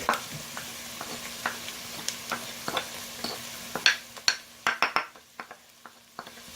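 Garlic goes into a pan of cooked onion frying for an okra dish. A soft sizzle runs beneath a string of sharp utensil clinks and scrapes against the pan, which grow louder midway, with no voices.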